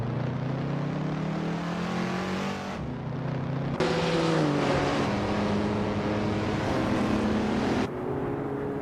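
Engines of race cars, including a 1968 Porsche 912, drone steadily in a racing video game, shifting pitch as cars jostle for position, with a louder burst of revving midway and no talking.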